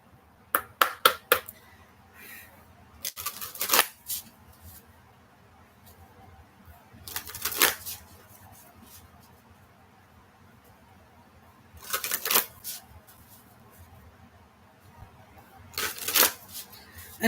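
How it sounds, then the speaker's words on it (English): Decks of playing cards shuffled in several quick riffling bursts, crisp broadband rustles spaced a few seconds apart, close and fairly loud with quiet handling noise between. "I'm shuffling through my decks"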